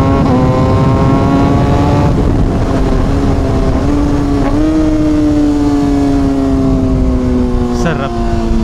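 Kawasaki ZX6R sport bike engine droning steadily while riding, its pitch climbing and shifting through gears, loud and close with constant wind rush throughout.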